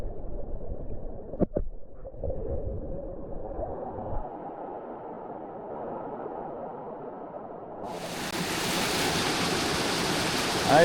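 Rushing water from a waterfall on a mountain brook trout stream in Virginia, a steady broad roar that swells louder and brighter toward the end, with a few brief knocks early on.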